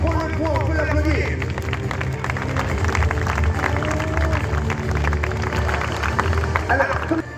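Spectators at a knight show at Château de Talmont clap for a jousting knight who has just scored, with dense, sustained applause and crowd hubbub while a presenter keeps talking over it.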